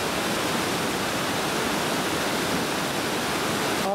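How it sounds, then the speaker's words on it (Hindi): Namblan waterfall near Sheeri in Baramulla, Kashmir, gives a steady, loud roar of rushing water. The hiss is broad and unbroken, with no voices over it. "आपको ज़्यादा पानी का शोर यहाँ पे आता होगा।"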